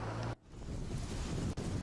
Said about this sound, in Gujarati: રાજકોટ શહેરમાં સાર્વત્રિક વરસાદ વરસી રહ્યો છે